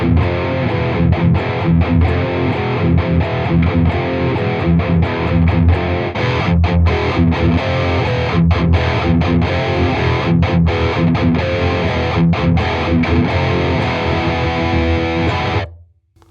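An electric guitar plays through the lead channel of a Steve Morse Signature 20 amp with all EQ at noon: loud, continuous distorted riffing with rhythmic chugs and brief gaps, lasting about fifteen seconds before cutting off abruptly.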